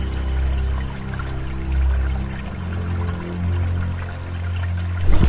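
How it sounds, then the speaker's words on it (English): Water pours and splashes steadily as it overflows a drain in an escape-room challenge, a continuous close low rushing stream that swells and eases without a break. "Now I have the water overflowing"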